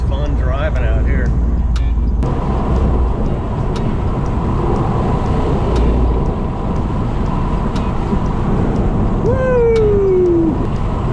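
A 2019 Corvette or 2019 WRX STI cruises country back roads, a steady loud engine and road drone with wind rush heard from the car, under occasional talk.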